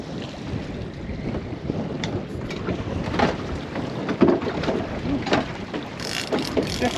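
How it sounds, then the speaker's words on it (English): Wind rushes steadily over a fishing boat at sea in lumpy conditions, a constant broad roar with occasional gusts and faint knocks, and no voices. "wind has picked up and it's definitely got a little bit lumpier actually"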